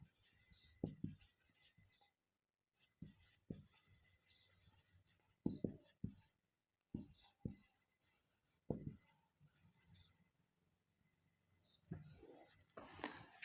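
Someone writes an interrogative sentence on a board or paper. Soft, scratchy strokes come in short bursts separated by pauses, quiet and close, with no voice over them.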